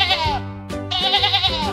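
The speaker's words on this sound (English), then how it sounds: "It is a sheep." Sheep bleating on a farm, a single drawn-out, wavering bleat followed by a second bleat, loud and close with no talk over it.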